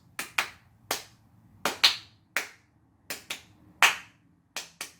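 Sharp hand claps arriving in quick pairs, about six double claps spaced roughly a second apart, loud and close with no talking.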